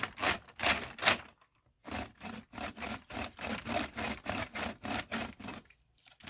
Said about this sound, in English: And I think that noise is the rollers.